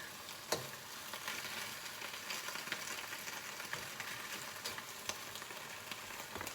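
Garlic and dandelion greens fry in a pan with a steady, quiet crackling sizzle and scattered sharper pops, close and continuous with no talking.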